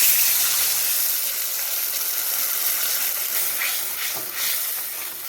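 Ground spice paste dropped into hot oil with five-spice seasoning in a pan, a loud, continuous hiss that stays steady throughout without talking.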